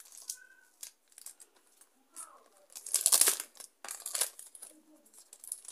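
Packaging for an Itel Star 100 power bank is torn and opened, with close crinkling, ripping and rustling in irregular bursts and short quiet gaps.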